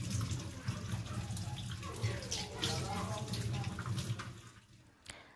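Tap water running steadily as hands, feet and face are washed, a continuous splashing flow with a brief clatter near the end.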